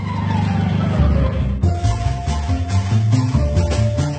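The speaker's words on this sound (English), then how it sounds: "This week I'm driving a Class 11 racing Beetle." A Class 11 desert racing Volkswagen Beetle drives hard, its air-cooled engine droning and rising in pitch, then dropping after a gear change midway and climbing again, loud and close.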